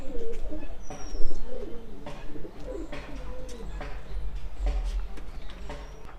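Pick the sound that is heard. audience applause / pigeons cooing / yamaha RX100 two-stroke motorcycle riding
pigeons cooing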